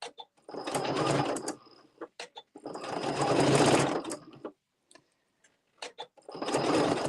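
A sewing machine stitches a thick, luxe cuddle fabric wrap in loud, steady whirring bursts of needle motor, three long runs separated by short pauses with a few brief ticks and stops between them, heard up close.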